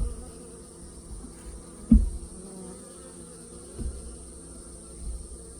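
Honeybees swarm around a beehive in a steady close buzzing drone, with a couple of soft knocks in the background.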